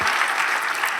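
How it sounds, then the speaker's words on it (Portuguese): Audience applause at the BC 2024 event on digital influence and leadership, dense and steady across the whole second with no pauses, a full room clapping together. "Salva de palmas para o Eric."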